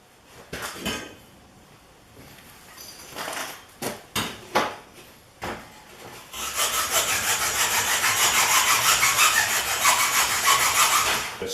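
Wood rasp filing away at a V-shaped notch cut into soft wood, scattered short scraping strokes at first, then a loud, steady continuous rasping that runs to the end, close up with no talking.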